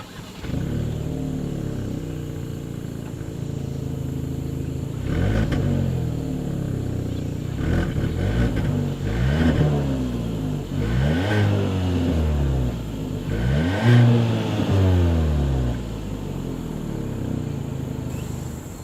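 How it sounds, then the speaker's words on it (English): A 2022 Kia Soul turbo engine revs repeatedly with a raspy exhaust note, rising and falling in pitch through several throttle blips, close and loud. "As always, here is that exhaust clip."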